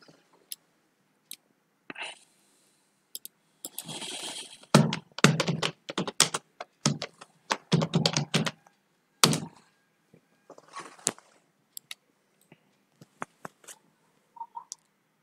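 Computer keyboard being typed on to run a Terraform template, bursts of close, crisp key clicks and thunks with pauses between clusters, no voice.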